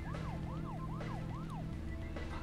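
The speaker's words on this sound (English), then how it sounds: "I actually get to use the siren." A wailing siren rises and falls in four quick sweeps over a steady engine hum, loud and close, with a low musical backing underneath, from the video game Deadly Premonition.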